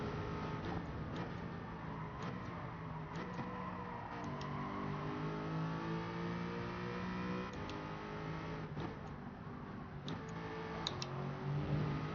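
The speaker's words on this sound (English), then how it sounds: "Hit the rev limiter, and I bet you that shaved off at least a 10th." A race car in Gran Turismo 7 at Goodwood Motor Circuit drones at high revs, its engine note climbing and bouncing against the rev limiter, with faint ticking clicks scattered throughout.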